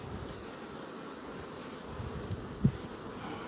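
A honeybee swarm hums and buzzes around honeycomb where flower honey is kept, a soft continuous drone with faint wind noise and one brief bump near the end.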